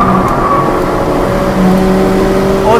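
Seat Leon FR accelerating at full throttle on a race track, a loud, steady engine roar heard from inside the cabin with a slowly rising pitch, running continuously without a break.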